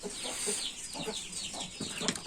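Chickens cluck softly in short, irregular bursts, with a few higher squawks and chirping birds around them, fairly close and unhurried.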